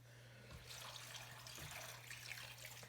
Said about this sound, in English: just pour some water in there until you think you have enough